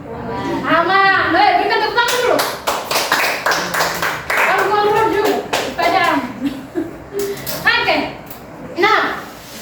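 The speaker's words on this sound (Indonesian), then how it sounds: "Berikan tepuk tangan dulu." A class of children applauds in a classroom, with bursts of clapping mixed with children's voices and chatter, and an adult speaking between the rounds.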